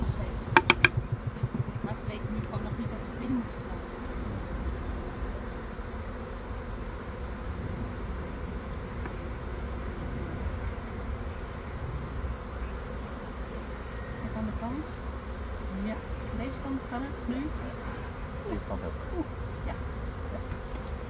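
A honeybee swarm being moved into a new hive makes a steady, dense buzzing drone throughout, with a few sharp handling knocks at the start.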